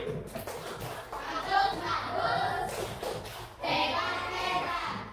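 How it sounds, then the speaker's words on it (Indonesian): Children in a school physical education class clap together for a classmate, brief bursts of patterned clapping in a room, mixed with young voices chattering throughout. "Tepuk bagus dulu untuk Bibi"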